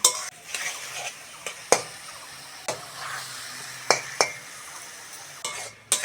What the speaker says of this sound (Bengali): এবার আদা রসুন পেঁয়াজ টমেটোটা ভালো করে কষে নেব